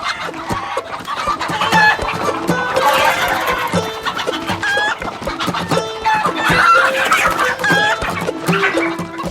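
Chickens clucking loudly and continuously on a farm before slaughter and plucking, busy overlapping clucks with occasional higher squawks, close and alone with no talk.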